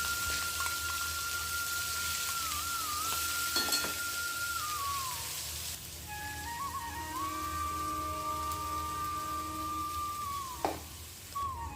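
Garlic, onion and green chili paste frying in hot mustard oil, after asafoetida and carom seeds have gone in, gives a steady continuous sizzle throughout, with a faint tonal whistle running underneath.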